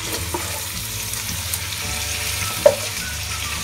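Vegetables sautéing in a large clay güveç pot, a steady, dense sizzle with soft stirring scrapes and one brief clack near the end, heard alone without talk.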